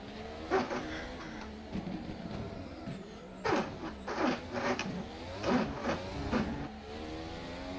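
A Formula One car engine in a racing simulator revs high and drops repeatedly through slow corners, a shrill whine rising and falling with sharp upshifts and throttle blips, steady and close with no talking.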